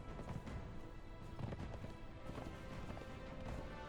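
In the video game Conan Exiles, a horse gallops with a steady, dense drumming of hooves over a constant rushing noise, fairly loud throughout and without audible speech.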